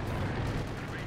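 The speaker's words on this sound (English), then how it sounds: "with the artillery coming down and with the airburst shells, it's kind of blocking the tanks" Artillery fire with airburst shells in the video game Company of Heroes 2, a brief dense rumble of blasts heard as one continuous roar.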